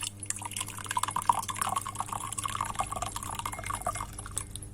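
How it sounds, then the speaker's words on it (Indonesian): Hot water is poured over Abrus precatorius leaves, a steady close trickle and splash of liquid with scattered bright drips running throughout, no voices. "Anda siram sama air panas"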